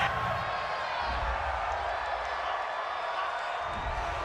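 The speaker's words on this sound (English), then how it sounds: "Well, this crowd does not like that call." Stadium crowd at Arrowhead during a Packers–Chiefs NFL game reacting to a roughing-the-passer penalty, a steady broad roar of many voices filling the whole stretch, loud and continuous.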